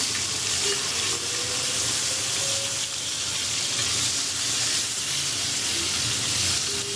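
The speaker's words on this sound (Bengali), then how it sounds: "আমি কিন্তু আজকে ইলিশ মাছ ফ্রাই করে নিচ্ছি" Hilsa fish and eggplant fry in hot oil in a home kitchen, giving a steady, fairly loud sizzle that runs unbroken and alone throughout.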